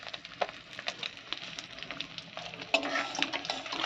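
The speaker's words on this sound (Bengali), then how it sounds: "তো বাটা মাছগুলো এবার ভাজা হবে।" Bata fish fry in hot oil in a pan, giving a close, crackling sizzle with spatula scrapes and taps. Just before the end the sizzle jumps louder and brighter, then carries on steadily with no talking.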